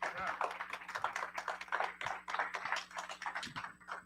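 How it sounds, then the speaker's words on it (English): Audience applause fills an auditorium, a dense patter of many hands clapping in uneven bursts, moderately loud and continuous for several seconds, with some voices mixed in. "So give yourself a round of applause for coming out and see us tonight."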